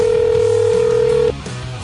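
A telephone plays a loud, steady dial tone for over a second, which then stops and gives way to low, quieter line noise as a call is placed.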